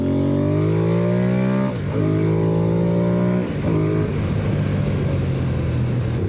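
Motorcycle climbing the Pfaffenschlick mountain pass, engine loud and close throughout, revving and rising through gears with brief dips at each shift.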